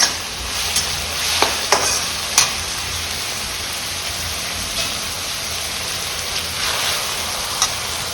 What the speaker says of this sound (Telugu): ఆనియన్స్ బాగా ఫ్రై అవ్వాలండి. ఉల్లిపాయలు వేగిపోయినాయి బాగా.